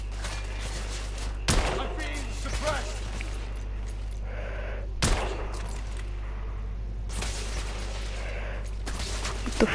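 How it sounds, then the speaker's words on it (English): Scattered enemy gunshots crack out at intervals in The Order, three or four sharp reports over a constant low hum, with faint voices in between. "The freak who's shooting at me."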